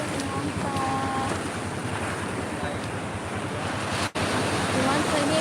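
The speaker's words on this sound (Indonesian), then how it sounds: "Ini pantai aja Irwansyah." Surf rolls steadily onto the beach at Anyer, a continuous broad wash of breaking waves and wind buffeting the microphone, with faint voices in the background.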